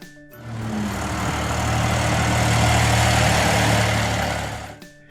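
A Massey Ferguson 135 tractor engine idles steadily with a low, even rumble, close and continuous for the whole stretch, rising slightly in the middle before fading at the end.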